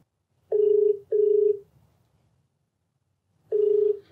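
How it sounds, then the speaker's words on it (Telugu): Telephone ringback on an outgoing call, two short steady tone bursts close together, a silent gap, then the ringing pattern starts again, clear and alone. "మరి రాధిక కాల్ చేస్తాను."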